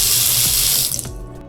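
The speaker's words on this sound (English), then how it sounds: "We have running water." Water gushing from a newly plumbed tap in a renovated kitchen of a beach condo, a loud steady splash into the sink that abruptly cuts off as the faucet is shut.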